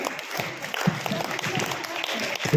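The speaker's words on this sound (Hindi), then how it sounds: "जोरदार तालियां जावेद सर के लिए।" An audience at a school Children's Day event breaks into steady, sustained applause, a dense wash of clapping hands lasting throughout, with a voice speaking over it.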